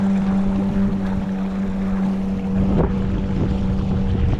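Steady wind rushes past a sailboat running downwind in strong breeze, with a constant low hum and faint water sounds through the whole stretch.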